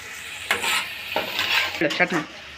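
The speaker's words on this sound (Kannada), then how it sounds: "ಒಂದು ಸ್ವಲ್ಪ ಫ್ರೈ ಮಾಡ್ಕೊಳ್ಳಿ ಲೈಟ್ ಲೈ ಫ್ಲೇಮಲ್ಲಿ ಇಟ್ಕೊಂಬಿಟ್ಟು ಫ್ರೈ ಮಾಡ್ಕೊಳ್ಳಿ" Masala fries in a pan over a low flame while a spoon stirs and scrapes, giving a soft sizzle under a few distinct metallic scrapes and clinks, all close and fairly quiet.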